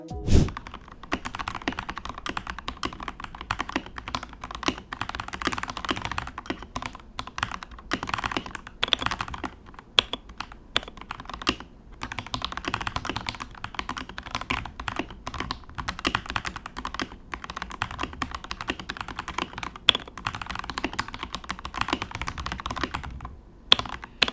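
Typing test on a Kemove K98 keyboard fitted with Gateron red linear switches, a dense, steady patter of close keystrokes with occasional heavier thunks, loud and alone throughout.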